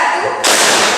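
A sudden burst of hand clapping from a group in a classroom clapping game breaks out mid-clip, loud and close after a quieter stretch of voices.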